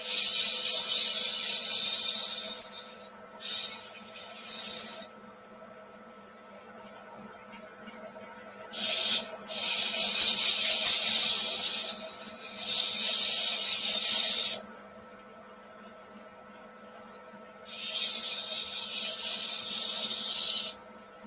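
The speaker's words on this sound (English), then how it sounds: "Let me lower that speed a bit for the sanding." Sandpaper rubs against a spinning Siberian elm piece on a wood lathe at lowered speed, producing loud hissing bursts of several seconds each, separated by pauses where only the lathe motor hums.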